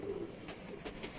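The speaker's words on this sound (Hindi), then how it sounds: "रजा भाई बहुत बहुत परफॉर्मेंस वाले कबूतर हैं ये माशाल्लाह।" Fancy performance pigeons kept in a home loft coo softly in a few brief calls against low background noise.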